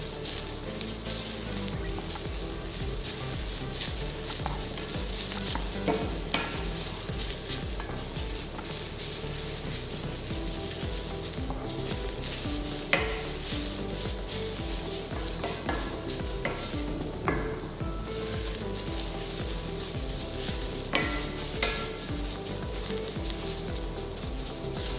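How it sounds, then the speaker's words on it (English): White cabbage sautéing in a pan with a steady, continuous sizzle and frying crackle, punctuated by occasional scraping stir strokes, close and fairly loud with no talking. "saute it very well."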